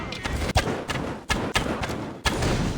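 Several heavy booming thuds in quick succession, loud and close, like game explosions going off one after another.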